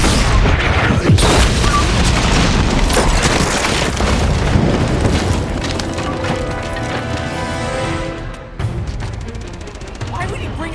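Tank blasts in the Uncharted 2 game: a loud, nearly continuous barrage of booming explosions mixed with splintering wood and crashing debris, with a sustained tonal drone emerging in the second half and a brief lull just before the end.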